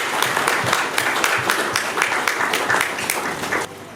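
Mourners at a funeral in Tchangué Yévol break into lively applause, many hands clapping together in a steady, brisk burst that stops abruptly near the end.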